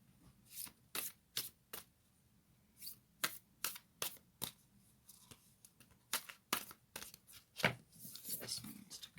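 A deck of Moonology oracle cards is shuffled close by, with a run of crisp, quiet riffling bursts in an uneven rhythm and no talk.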